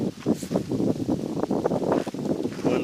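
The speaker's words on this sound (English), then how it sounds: "The wind's blowing a little bit" Gusty wind buffets an outdoor shooting spot where an air rifle is being handled, rushing unevenly and loudly against the microphone throughout.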